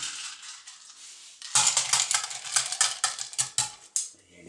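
Crushed ice is dropped into a short glass in a run of crisp, clattering rattles and clinks, close and fairly loud, following a quieter opening.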